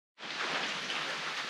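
Steady rain falls during a trek along a railway line in Rio Grande do Sul on a cold, wet day, a dense close hiss of drops that starts abruptly and holds alone without talk.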